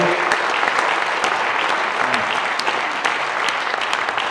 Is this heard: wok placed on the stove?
no